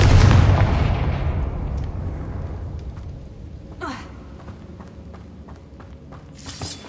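A Confringo blast spell in Hogwarts Legacy bursts with a loud booming impact that slowly fades into a rumbling tail, followed by a few faint clicks and a short whooshing burst near the end.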